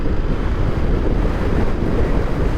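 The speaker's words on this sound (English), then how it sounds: "Oh, it's so windy." Strong wind blows across an outdoor microphone near boats on the coast in Scotland, producing a constant, heavy, close buffeting roar with no talk.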